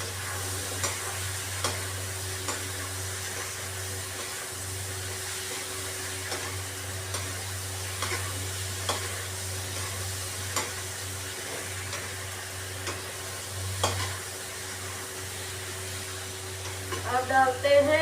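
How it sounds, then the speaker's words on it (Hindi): Chopped potatoes go into a hot pan and fry with a steady sizzle, with scraping stirs repeating throughout and a louder clatter of stirring near the end, all fairly close. "अब डालते हैं इसमें कटी हुई आलू।"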